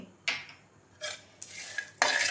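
Green chilies roasting in a pan for vada pav chutney, stirred with a few distinct metal scrapes and clinks against the pan in short bursts, close and fairly quiet.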